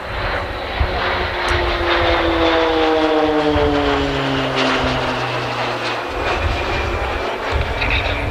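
RAAF Roulettes propeller aircraft flying past in formation, a loud continuous engine drone with shifting, Doppler-sliding pitch as the planes sweep overhead, alone without voices.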